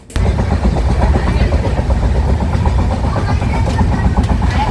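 Heavy, continuous rumble and rattle of a moving train, close and loud, with a steady low clatter throughout.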